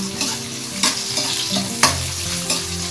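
Onion and garlic frying in a pan for chicken adobo, a continuous close sizzle with occasional stirring scrapes and clinks of a utensil against the pan.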